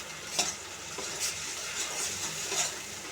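Bay leaves hit hot oil in a pan for a Bengali doi katla fish curry, giving a steady close sizzle and fry hiss with a few soft stirring scrapes and no voices.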